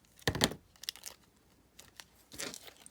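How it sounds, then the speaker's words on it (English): Scissors snip through the end of a small cardboard matchbook, two close bursts of crisp paper cutting and crinkling separated by a quiet pause, with faint handling rustles in between. "I just cut off the end part right here."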